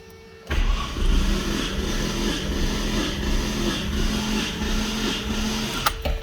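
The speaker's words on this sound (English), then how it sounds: "Now I can tell you just the sound of it cranking is already much more impressive." A restored Datsun S13's engine cranks over in a steady, even churning rhythm, loud and close, running continuously for several seconds.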